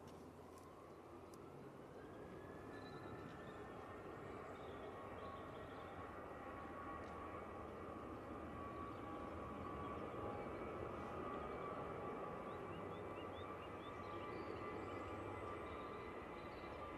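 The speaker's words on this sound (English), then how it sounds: "Coming in now, we have the Ryanair from Dublin using 737-800." A Ryanair Boeing 737-800 from Dublin comes in to land at Manchester Airport: a faint, distant, steady jet roar that swells slightly over the whole stretch, with no talk.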